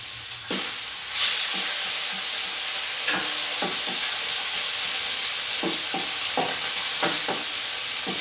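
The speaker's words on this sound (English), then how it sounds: "I want to brown the bacon." Bacon browning in a Dutch oven, a steady close sizzle and hiss of frying running throughout, with occasional clinks and scrapes of stirring on top.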